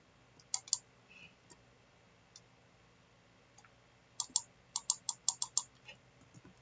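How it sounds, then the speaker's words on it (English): Button clicks in the Minecraft video game: a few scattered single clicks early on, then a quick run of six or seven crisp clicks near the end, faint and with no talk. "I'm just gonna click random buttons in here."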